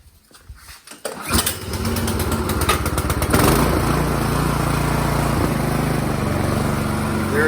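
A Troy-Bilt Storm Tracker 2690 XP snow blower engine with a newly replaced carburetor cranks with a few quick pulls, then catches and roars into a loud, steady idle close by, with no one speaking.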